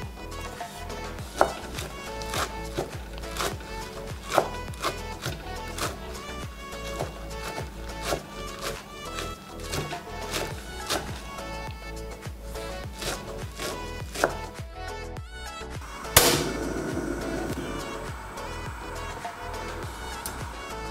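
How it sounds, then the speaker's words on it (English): A knife chops moringa leaves held tight on a board into tiny pieces: a steady run of crisp, close taps, with a louder knock and scrape near the end. "This is how you have to hold the leaf tight and cut them. Then you will get very tiny pieces."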